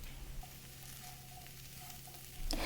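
Chickpeas with paprika, Kashmiri red chili and mixed spice warm in a pan with a faint, soft sizzle over a low hum, swelling into a louder burst at the very end.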